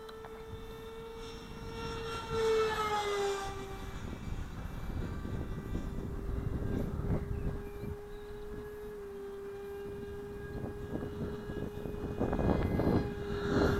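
A Sport Jet 70 RC model jet flies flat out, its electric ducted fan giving a steady whining drone with pitch shifts as it passes, echoing around the flying site.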